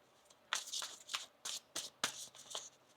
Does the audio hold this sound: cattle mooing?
no